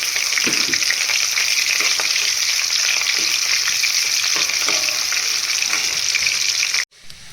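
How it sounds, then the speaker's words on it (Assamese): Onions frying in oil in a kadai, a loud, steady close sizzle with faint stirring that cuts off abruptly near the end. "এয়া মই কেৰাহীত তেল দিছোঁ। এতিয়া মই ইয়াতে পিঁয়াজ দিম।"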